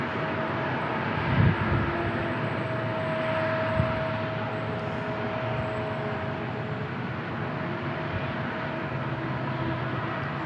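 A WestJet airliner passes at San Diego International Airport, a steady, loud broadband engine roar with a faint droning tone that holds evenly throughout, with no voices.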